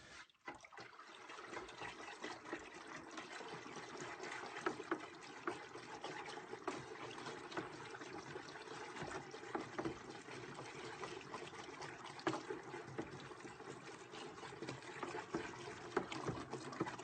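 Pickling solution for hide tanning being stirred, a steady close swishing and trickling of liquid that runs unbroken for the whole stretch with no talk.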